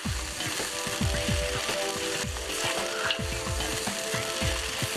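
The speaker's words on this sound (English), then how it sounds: "I'm frying it for about 5 to 10 minutes." Steady loud sizzling of meat frying in a pot for Uzbek pilaf, with repeated scraping and stirring knocks running underneath throughout.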